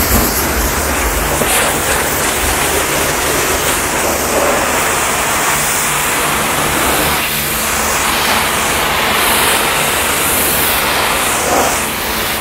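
A hot-water pressure washer sprays a car, giving a loud, continuous hiss of water against the bodywork that stays steady throughout.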